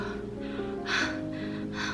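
A pregnant woman imitates heavy breathing with a few hard, forceful breaths and gasps in quick succession, close and loud, with no other sound around them.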